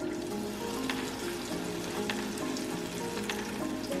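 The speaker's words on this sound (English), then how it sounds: "I'm only gonna use a spoonful and drop it over in the oil." Spoonfuls of salmon patty mixture fry in hot oil in a pan, giving a steady close sizzle with faint crackles and pops throughout.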